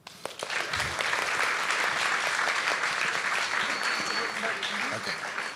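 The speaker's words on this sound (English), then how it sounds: "let's give a great round of applause for Tia Gordon, co-founder and COO at It's Electric" Audience applause for a speaker at a tech showcase, a steady dense clapping that starts sharply and holds at an even level throughout, with a few voices faintly mixed in.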